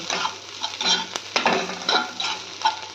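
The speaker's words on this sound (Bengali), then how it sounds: "দেখো পোস্তগুলো ফাটছে তার মধ্যে" Poppy seeds crackle as they fry in a pan for a Bengali lunch, with dense crisp popping and hissing broken by a few scraping stirs close by. No one speaks.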